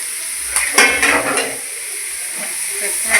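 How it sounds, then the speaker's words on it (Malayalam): Clam meat frying with turmeric in a pan, stirred with a utensil: a steady sizzling hiss with a few light scraping clinks against the pan, close and alone. "കക്കയിറച്ചിയിട്ടൊക്കെ നല്ലതുപോലെ ഇളക്കുക."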